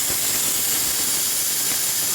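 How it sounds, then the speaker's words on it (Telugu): Steam hisses loudly and continuously from a pressure cooker cooking dal on a medium flame, a dense, unbroken rushing sound held at close range. "మీడియం ఫ్లేమ్లో 3 విజిల్స్ వచ్చే వరకు ఉంచానండి"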